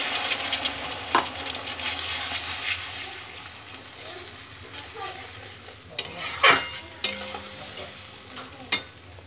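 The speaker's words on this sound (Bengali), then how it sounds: "এবার এর মধ্যে অল্প জল দিয়ে দেবো।" Water poured onto well-fried spice masala in a pan for a fish curry, a sizzle and bubbling under repeated stirring scrapes and clinks of a utensil against the pan.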